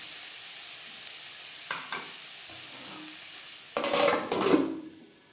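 Vegetables for chicken rolls stirred in a hot frying pan, a soft steady sizzle broken by a few light scrapes, then two louder bursts of stirring and clatter near the end.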